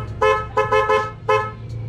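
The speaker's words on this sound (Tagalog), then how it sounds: "Pag binusinan nyo," A loud aftermarket double horn fitted to a Honda Mio i 125 scooter honks in four short, sharp blasts of uneven length, close and piercing against a low engine hum.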